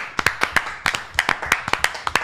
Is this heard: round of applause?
yes